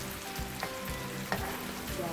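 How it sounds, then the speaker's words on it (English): Coated peanuts fry in hot oil, a continuous low sizzle with occasional scraping clicks as they are stirred, no talking. "So when you are frying, make sure you keep stirring"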